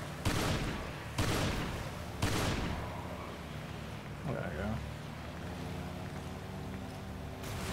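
Three loud bursts of rapid gunfire from Resident Evil 5, each a sharp spray of shots, followed by quieter clatter and a short voiced sound amid ongoing play.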